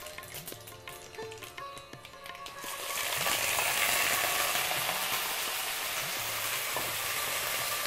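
Meat frying in a pan with til, starting with scattered clicking and rattling and then swelling into a loud, continuous sizzle that holds steady to the end.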